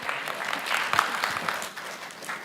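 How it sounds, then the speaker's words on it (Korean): Audience applause at a cloud data-integration tech conference talk, a steady dense clapping from a moderate crowd filling the room for a couple of seconds, close and fairly loud with no voices over it. "여러분 박수 한번 주시죠."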